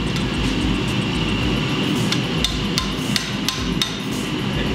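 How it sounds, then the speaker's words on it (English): A fitting is hammered onto a Damascus steel medieval sword using a long pipe jig, producing a series of sharp metallic blows at an irregular rhythm, loud and close over a noisy workshop background. "Need to hammer it on one more time. Using that new extra long smash pipe hammery jig thing we made."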